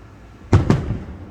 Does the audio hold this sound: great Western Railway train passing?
no